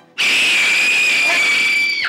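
A young actress lets out a single sustained, piercing high scream that bursts in suddenly and holds steady for about two seconds before cutting off, loud and close.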